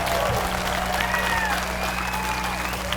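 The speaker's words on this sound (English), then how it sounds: "Let's give them a huge round of applause for all the work that they've done for us today." Applause from a rally crowd fills the air in a dense, steady patter of clapping with some cheering, loud and sustained throughout.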